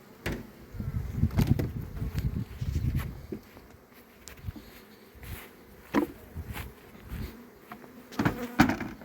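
Honey bees buzz around beehives during a hive inspection while the colonies are being fed, a steady low hum with louder passes as bees fly close, mixed with occasional handling knocks.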